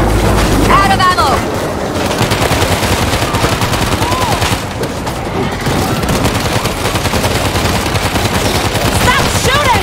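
Near-constant loud gunfire from the World War Z video game, with rapid automatic bursts and heavy shots packed together across the whole stretch, while players talk over the shooting.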